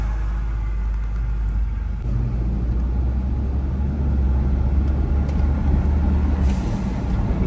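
An IROCZ car's engine, starved of fuel, rumbles low and steadily from close by while the car drives, with a constant heavy drone.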